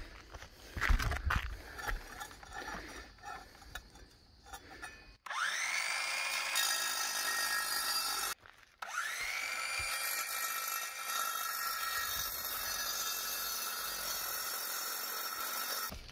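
A Ridgid battery-operated saw fitted with a concrete blade cuts into a chimney, two long steady high whining passes separated by a brief stop, loud and close, after some clattering handling.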